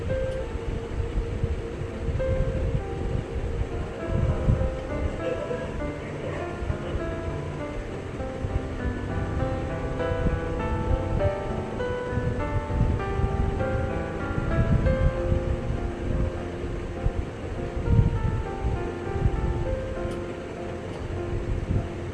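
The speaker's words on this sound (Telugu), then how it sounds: "ఆయిల్ హీట్ ఎక్కాక మన పకోడీ పిండి ఇలా విడివిడిగా వేసుకోవాలండి, ముద్దగా వేయకూడదు." Onion pakoda batter sizzling in hot oil, a steady dense crackle and hiss of frying that continues evenly and fairly close throughout.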